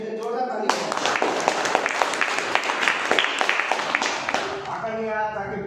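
An audience at a seminar breaks into loud, vigorous applause that swells quickly and holds as sustained clapping, with a voice audible at the edges.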